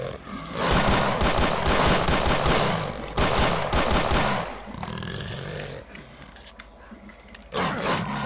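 Dogs attacking amid gunfire in the video game STALKER: dense, loud bursts of rapid shots and snarling roars fill most of the stretch, easing into a quieter lull before another loud burst near the end.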